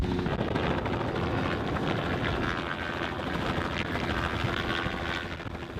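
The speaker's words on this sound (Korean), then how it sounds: "그때 안개 속에서 헬기가 모습을 드러냅니다." A helicopter flies through dense Arctic sea fog, its steady rotor and engine roar filling the air loudly and continuously without letting up, with no voices heard.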